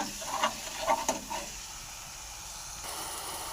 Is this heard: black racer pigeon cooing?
no